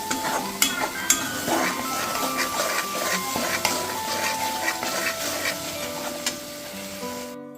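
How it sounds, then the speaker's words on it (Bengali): Chana masala stirred and sautéed in a pan after a splash of chickpea cooking water, a constant sizzle under repeated spoon scrapes against the pot, with no talking. "চানা সেদ্ধ করা জলটা একটু দিয়ে কষবো"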